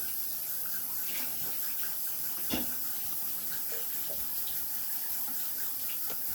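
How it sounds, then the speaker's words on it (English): Water runs steadily into a glass for a lava lamp experiment, a continuous close splashing fill with faint clinks partway through. "We need 1 to 2 inches of water in the bottom of the glass."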